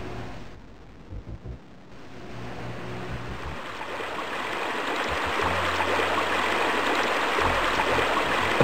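Running water from a river stream in a game, rising from faint to a steady, full rush that grows louder and holds to the end, with no talking.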